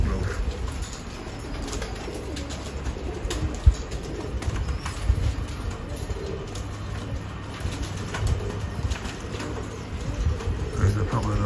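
Roller pigeons settling onto a shed roof, soft cooing and occasional wing flaps heard faintly under someone talking and steady outdoor background noise.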